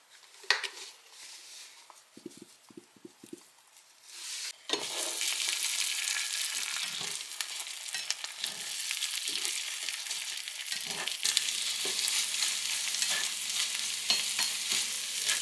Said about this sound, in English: I'm just going to pour my egg off in here, and I'm going to scramble that up.